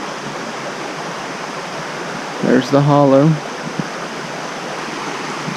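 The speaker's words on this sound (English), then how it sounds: "the creek is flowing right now" A creek runs full after rain at a natural well, a steady loud rushing wash heard close, with a brief spoken voice over it.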